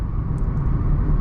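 Inside a Toyota Taisor cruising on a highway, a steady low road rumble and tyre roar fill the cabin, even and moderate in level, with no voices.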